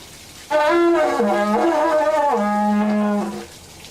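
A didgeridoo blown like a trumpet gives a loud, close brassy horn-like blast with a few pitch shifts, held for about three seconds, harsh and buzzy, with no talking.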